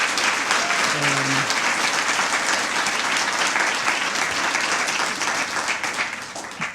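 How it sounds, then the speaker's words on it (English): Warm applause from a staff audience for a new minister and deputy minister of communications, loud, dense clapping that holds steady before easing off toward the end, with a brief voice near the start. "Please give them another round of applause."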